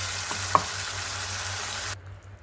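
Ground masala goes into cauliflower and tomato in a hot pan, producing a steady close sizzle with a small clink near the start before the sound cuts off abruptly.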